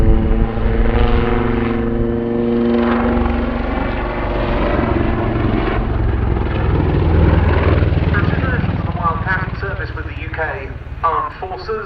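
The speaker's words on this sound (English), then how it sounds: "the aircraft will come into the hover for the first of its, I think it's fair to say, its characteristic manoeuvre" A Westland Wildcat helicopter, a naval HMA-2 type, hovers at an airshow, its loud steady rotor and turbine roar filling the whole stretch while a commentator talks over the PA.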